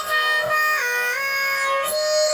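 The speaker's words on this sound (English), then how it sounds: "learn how to play the little vocal chop which is going on" Short pitched vocal fragments slide and repeat over a thin synthetic backing, a chopped, processed voice sample looping within a song.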